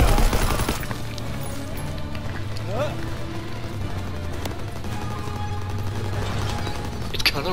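Rapid bursts of gunfire from the World War II shooter Call of Duty WW2 rattle continuously through busy in-game combat noise, with a player talking over the action.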